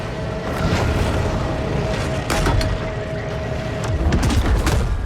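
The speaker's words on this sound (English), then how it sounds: "Bet you didn't think I had torpedoes." Torpedoes explode in the shark game Maneater, a series of heavy booms and bursts scattered over a few seconds amid continuous rumbling game noise.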